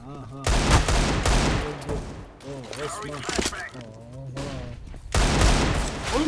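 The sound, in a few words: gunfire in a video game shooter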